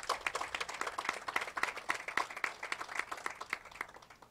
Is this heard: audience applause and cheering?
yes